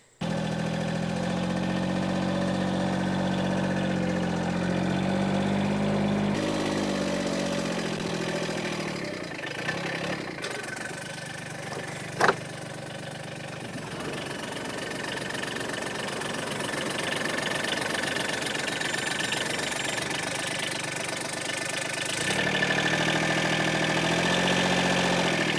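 A John Deere Gator HPX utility vehicle runs its engine steadily while its woodchip box dumps. The drone shifts in tone partway through, and a single sharp clunk stands out near the middle.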